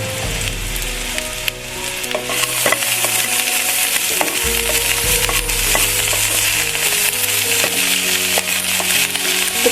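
Okra fries in oil for a chutney, a continuous crackling sizzle with scattered sharp pops and occasional stirring scrapes and clinks, close and fairly loud, no speech.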